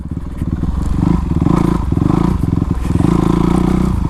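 Honda CRF450 dirt bike engine running steadily through laps, a loud, close, continuous four-stroke drone with rhythmic pulsing and small rises in revs, with no voices.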